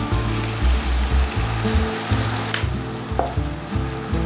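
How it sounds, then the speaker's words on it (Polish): Vegetables fry in a pan for a dry-style soup, giving a steady sizzle beneath a low, rhythmic musical backing, with no voices. "i smażymy, aż warzywa zrobią się miękkie"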